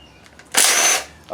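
A power tool, likely an impact gun, zips briefly while pulling the side bolts from a 2007 Chevy 5.3 engine block during a rebuild, a short, loud burst of about half a second between quiet moments.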